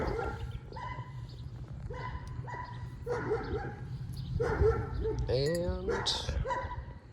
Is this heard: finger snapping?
no